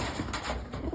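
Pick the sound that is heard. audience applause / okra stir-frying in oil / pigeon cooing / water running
pigeon cooing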